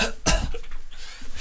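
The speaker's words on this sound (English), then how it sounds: "Should be coughing blood at this point." One person gives a single sharp cough, then a few softer throat and breath noises trail off, with no talking.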